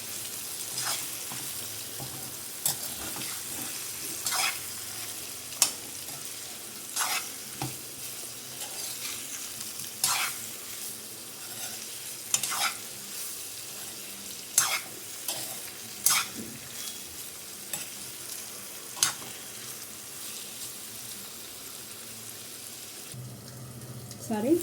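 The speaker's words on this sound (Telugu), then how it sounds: "ఈ పన్నీర్ ముక్కలను గోల్డెన్ బ్రౌన్ కలర్ వచ్చే వరకు ఫ్రై చేసుకోవాలి మనం." Paneer pieces fry in oil in a pan with a steady sizzle, broken by sharp scraping stirs every second or two over about twenty-five seconds.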